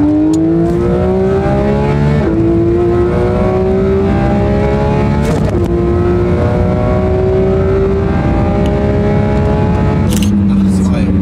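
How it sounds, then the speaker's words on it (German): A Porsche GT3 RS engine pulls hard and climbs through the gears, its tone dropping sharply at each of three shifts before rising again. It is loud and close throughout, and a voice speaks over it. "Das Schaltgeräusch ist was"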